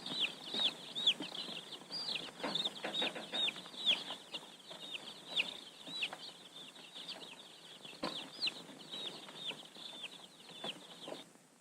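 A box of chicks set aside among mail sacks peeps constantly, with many high, rapid chirps overlapping in a busy, close chorus.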